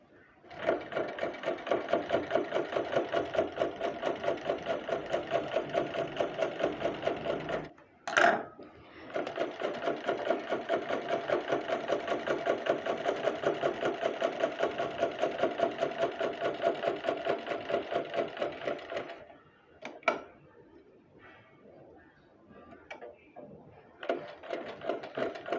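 A sewing machine stitches a kameez sleeve seam from cuff to underarm in two long, loud continuous runs separated by a short pause, then stops, with brief clicks and handling noises afterward.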